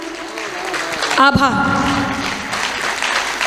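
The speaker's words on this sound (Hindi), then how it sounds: "अच्छी बात पर आपकी अच्छी तालियां मुझ तक पहुंच रही हैं" Audience applause at a Hindi kavi sammelan poetry recital: a burst of clapping swells and carries on steadily beneath the poet's spoken thanks, which ring out over it.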